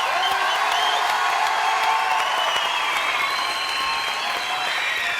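Audience applause fills a French TV studio set, steady dense clapping with some cheering and whoops, loud and continuous throughout.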